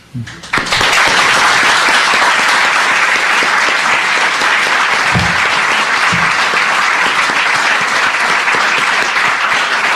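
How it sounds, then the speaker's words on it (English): Loud, dense applause from a large lecture audience starts abruptly and continues as an unbroken roar of clapping for about nine seconds. "Keep clapping."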